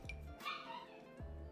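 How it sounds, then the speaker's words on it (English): Real dogs bark in the background at home, with two or three short yips that sound somewhat muffled and faint under a steady hum. "My dogs are barking in the background."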